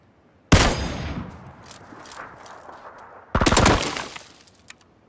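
Two sharp, loud bursts of gunfire in PUBG, a single crack followed later by a rapid automatic volley, each trailing off into a fading echo.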